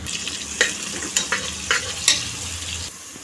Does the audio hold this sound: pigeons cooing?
no